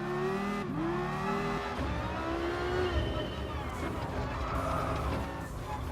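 A Dodge SRT Tomahawk VGT race car engine in the Gran Turismo Sport video game revs and climbs through gear changes, a loud, close whine rising in pitch with sharp shifts, heard alone.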